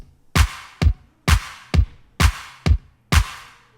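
Punchy electronic kick drum hits in a repeating pattern, from a remake of a song, each thump tight and clipped with little low-end tail, over a faint background hum.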